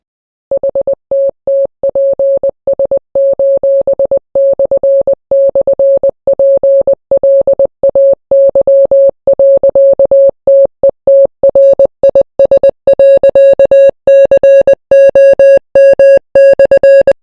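Morse code sent as a steady mid-pitched beeping tone in rapid keyed bursts of short and long pulses, loud and continuous for the whole stretch, with a faint higher shimmer joining toward the end.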